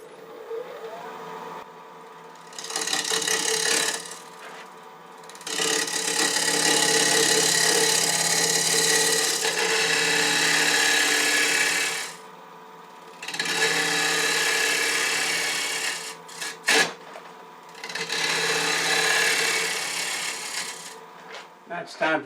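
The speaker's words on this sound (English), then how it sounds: "So now I'm going to be cutting it where I won't be tearing the grain out." A wood lathe gouge cuts the back side of a spinning wooden bowl in several long sustained passes, a loud rough shearing drone that stops and restarts between passes.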